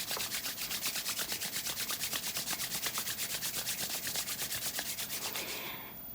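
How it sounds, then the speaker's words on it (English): Palms rub briskly back and forth in a steady, fast rhythm of soft swishing strokes, close and fairly quiet, continuing alone for about six seconds before easing off. "Rub your hands together. Let's generate some heat."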